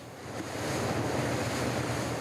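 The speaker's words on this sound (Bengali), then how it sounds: "স্রোতের বুক চিরে ছুটে চলা এই পথটি রাবনাবাদ চ্যানেল।" Strong water currents surge through the Rabnabad channel off Patuakhali, a broad, continuous rush swelling louder after the opening, mixed with wind buffeting the microphone.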